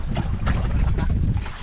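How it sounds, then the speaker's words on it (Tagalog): Strong wind at sea on a small fishing boat, a continuous rough rumbling roar buffeting the microphone, loud and unbroken. "Lakas ng hangin."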